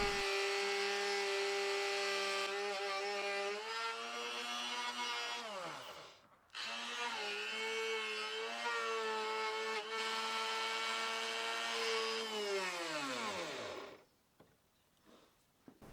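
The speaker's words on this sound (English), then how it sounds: "I also take this opportunity to do some initial routing of the truss rod access point." A power router cuts the truss rod access channel in a custom bass guitar neck, a loud steady whine heard alone that winds down near the six-second mark, starts again at full speed, then spins down to quiet near the end.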